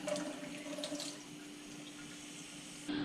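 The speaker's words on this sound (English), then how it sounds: "you're gonna add 1/4 cup of warm water to this" Warm water poured from a tap or cup onto dry yeast, a steady close trickle and splash for a few seconds without talk.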